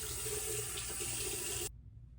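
A tap runs steadily into a sink for rinsing after a shave, a close, even rush of water that cuts off abruptly near the end.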